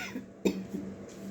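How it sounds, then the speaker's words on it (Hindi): A single short cough from a woman, close and fairly abrupt, with a quieter throaty follow-up in an otherwise quiet room. "बोलने से मुझे खांसी हो जाती है"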